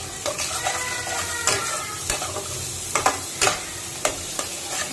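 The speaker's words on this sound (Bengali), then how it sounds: "ভালো করে কষিয়ে নিব।" Tomato and spices (cumin powder, turmeric, salt) fry and sizzle in a pan for rui fish kalia, with steady crackling broken by repeated scraping stirs of a spatula, close and moderately loud.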